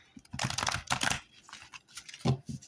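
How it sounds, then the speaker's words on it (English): Tarot cards are shuffled close up in quick bursts of crisp, papery riffling and clicking, with a short pause before a final few snaps. "almost done shuffling here"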